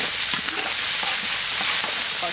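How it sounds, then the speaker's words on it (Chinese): Chili bean paste, pickled chilies, ginger and garlic stir-fried hard in hot rapeseed oil in a wok, a loud, close, continuous sizzle with a few scraping stirs, and no voices. "这个给它爆炒"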